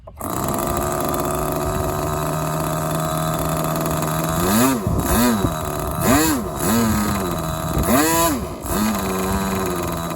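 A small model glow engine runs close by with a high, steady buzzing whine, then revs up and down in several quick throttle bursts before settling back.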